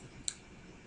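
A single soft click of a computer mouse, very brief and faint, against quiet background.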